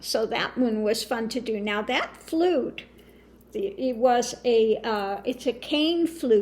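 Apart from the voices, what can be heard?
No everyday noise stands out behind the speech.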